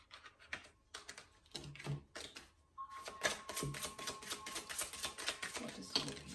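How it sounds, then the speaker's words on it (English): Rapid clicking and riffling of tarot cards being shuffled, a few short bursts at first, then a dense continuous flurry close to the listener. "these cards shuffle really loudly"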